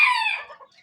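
A decorative chicken gives a single short, close cluck that fades within a second.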